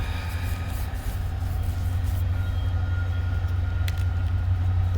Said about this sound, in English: I don't know if you can hear that train